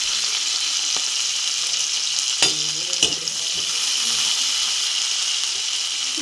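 Chili and onion sizzle and spit in a hot wok, a continuous frying crackle broken by a couple of sharp clanks of stirring, with no one talking.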